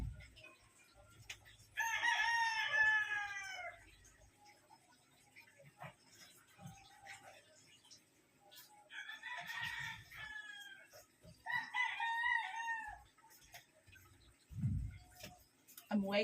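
Live chickens cluck and a rooster crows in several bursts at a moderate distance, with faint background noise and bumps from nearby cooking.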